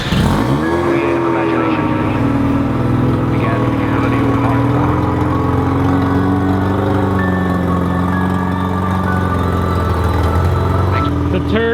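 A Mazda RX7 engine runs steadily nearby with a constant droning hum and a slight rise in revs partway through, continuous and fairly loud.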